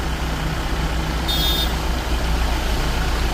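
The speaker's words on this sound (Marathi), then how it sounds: "काय ट्रक चाललेत बघा लाईनी" Heavy trucks rumble past in a line on a mountain ghat road in a steady low drone, with a brief high whine partway through.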